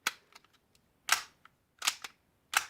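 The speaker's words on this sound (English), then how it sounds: "and actually nearly sounds a little bit metallic when you're racking it" A Tokyo Marui H&K USP Compact airsoft pistol has its plastic slide racked, giving several sharp, crisp clacks with a slightly metallic ring, spaced irregularly in near-silence and heard up close.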